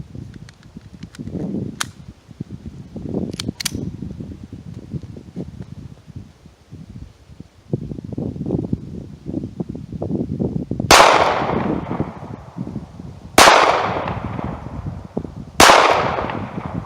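Sharp, loud gunshots from a Ruger LCP pistol on an outdoor range, several spaced cracks near the end after quieter handling and rustling, each shot standing alone with a short tail.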